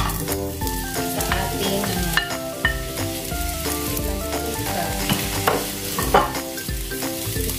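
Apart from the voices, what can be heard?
onion frying in oil for beef casserole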